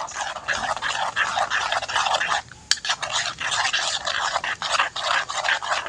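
Eggs beaten with a spoon in a bowl for a Bengali egg recipe, producing fast, rhythmic scraping and clinking strokes that pause briefly midway and then resume at close range.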